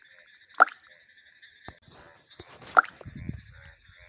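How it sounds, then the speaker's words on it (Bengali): Water drips drop by drop in a quiet room, two distinct plinks a couple of seconds apart over a faint background hum. "হঠাৎ ফোঁটা ফোঁটা পানি পড়ার শব্দে করিমের ঘুম ভেঙে গেল।"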